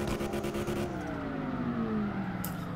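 A drift car engine in CarX Drift Racing Online on PS4 drones loudly and continuously, its pitch sliding gradually lower as the revs change, with no talking over it.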